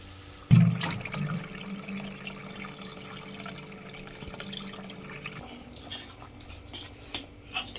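Water pours into a cooking pan during home cooking, a loud splash and sizzle at the start settling into a steady bubbling hiss that fades after a few seconds, with faint clinks later.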